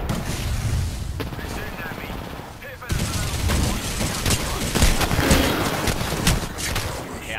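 Rapid gunfire and explosive blasts from a grenade fight in Apex Legends crackle loudly and densely, with a sharp cut partway through followed by renewed heavy shooting and booms, voices speaking intermittently underneath.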